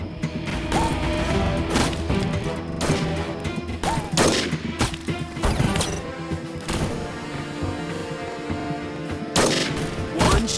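Sniper rifle shots ring out in the mobile shooter game Sniper Arena, sharp loud cracks with mechanical bolt clatter, fired irregularly over game sounds and voice announcements.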